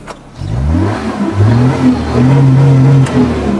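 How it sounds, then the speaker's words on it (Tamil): A used Maruti Omni van's engine runs close by, a low throbbing hum that rises and falls slightly in pitch as it revs, loud and steady with no talk. "வண்டி ஓடிட்டு இருக்கு ரன்னிங்லேயே ஓடிட்டு இருக்குதுங்க"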